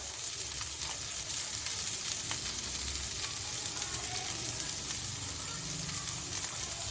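Spices frying in a pan over a low flame, giving a steady, continuous sizzle that stays even throughout, close and moderately loud with no speech over it.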